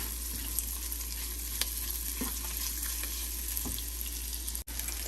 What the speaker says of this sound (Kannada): ಈರುಳ್ಳಿ ಸ್ವಲ್ಪ ಕೆಂಪಗಾಗೋ ತನಕ ಇದನ್ನು ಚೆನ್ನಾಗಿ ಸ್ವಲ್ಪ ಫ್ರೈ ಮಾಡ್ಕೊಳ್ಳೋಣ.